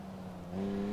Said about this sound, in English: I love the turbo sounds on this car.